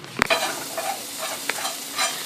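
A utensil stirs dumplings frying in vegetable oil, giving a sharp clack at the start and then a continuous sizzle broken by brief scraping strokes, close and with no talk.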